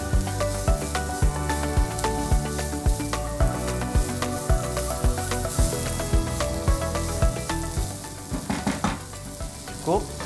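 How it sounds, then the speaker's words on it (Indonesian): Japchae ingredients sizzle loudly as they are stir-fried in a hot pan, a dense continuous frying hiss broken by regular scraping strokes of the spatula. "Kita akan tumis dia sampai harum ya."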